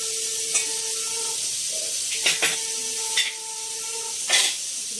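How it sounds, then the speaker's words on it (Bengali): Sliced brinjal fries in a pan, giving a steady background sizzle and hiss, broken by a few sharp spits and crackles and faint clinks of cookware. "বেগুনটা ভাজবো।"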